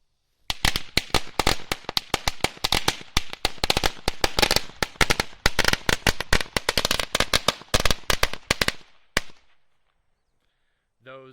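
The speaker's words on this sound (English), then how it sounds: "Those are some very bright firecrackers." A 100-shot string of Great Grizzly beast crackers firecrackers rips off in rapid, loud, uneven bangs for about nine seconds before stopping abruptly into silence, outdoors at a Fourth of July gathering.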